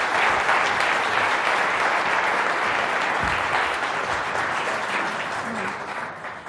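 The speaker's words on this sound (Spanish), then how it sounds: "Le demos un aplauso gigantesco." An audience applauds a speaker, loud, dense clapping that fills the room and slowly tapers near the end, with no voices over it.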